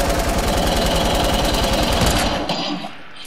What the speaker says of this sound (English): People building at the radio tower.